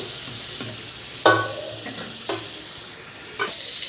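Fish fries in a pan after being turned over, a close, steady sizzle broken by a few sharp spatula scrapes and taps against the pan.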